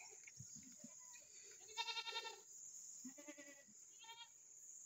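Several goats bleat in a farm pen, with short wavering calls in two clusters over steady background hum and a faint insect-like whine, plus brief low thumps.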